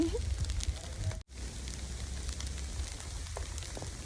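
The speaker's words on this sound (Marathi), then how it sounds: "बर्फ पडतोय खूपच थंड आहे" Ice pellets patter steadily outdoors in Dallas, Texas, a dense, continuous hiss of small impacts with a brief dropout partway through.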